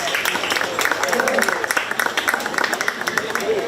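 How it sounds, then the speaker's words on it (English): A crowd at a county fair 4-H cattle show claps in scattered, uneven bursts while an announcer talks over the applause. "Let's give her a big round of applause."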